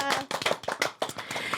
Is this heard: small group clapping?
yes